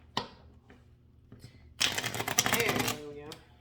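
Tarot cards are shuffled by hand with a few soft taps and flicks, then a dense riffling burst lasting about a second, close and clear, with speech nearby.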